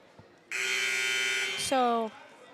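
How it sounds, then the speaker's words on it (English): A loud, steady electronic buzzer blares for over a second at a high school basketball game, then shifts pitch and cuts off, with faint background noise before it. "So the buzzer sounds."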